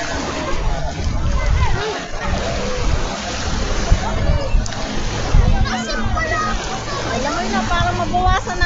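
Beachgoers splash and swim in the sea at White Beach, Puerto Galera, with continuous sloshing water close by, children's voices, and people chattering throughout.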